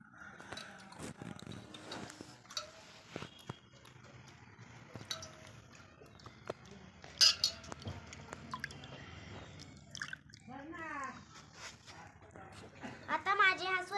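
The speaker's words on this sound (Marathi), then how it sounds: "आता मी ह्या पाण्यात माझे हात धुवून घेते." Dirty hands are washed in a pot of water, making soft intermittent splashes, drips and squishy swirls, with a voice briefly audible toward the end.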